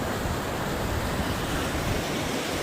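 A mountain stream in Kyrgyzstan rushes steadily in a broad, even wash of water noise, close and continuous with no pauses, heard alone.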